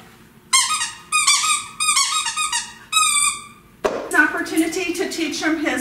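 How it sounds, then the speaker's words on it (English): A dog's squeaky rubber toy squeezed repeatedly during a Border Collie training session, several loud, sharp squeaks in quick bursts, followed by a deeper squeal-like sound, close by with no clear talking. "he's got a squeaky toy his family set with him"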